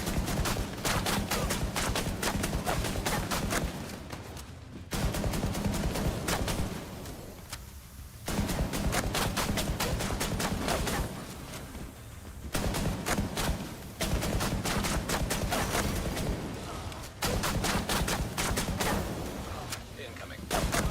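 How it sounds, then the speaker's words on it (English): Sustained volleys of gunfire in a video game, aimed at the player and coming in dense rapid bursts with brief lulls between them, loud and continuous throughout, with a voice occasionally heard beneath. "They're shooting at me."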